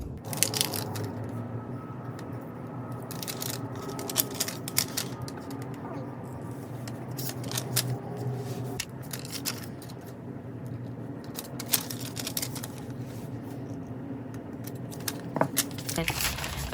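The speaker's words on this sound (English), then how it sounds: "I'm gonna actually trim all of these little corners here to just have a very slight roundness" Small plastic planner tabs get their corners trimmed with scissors, giving repeated short crisp snips and crinkly clicks spread unevenly over a low steady hum, fairly close and quiet.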